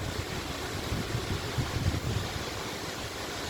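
The Cascata delle Marmore waterfall in Italy pours down as a steady, broad rushing roar, heard from a distance with some wind buffeting the microphone.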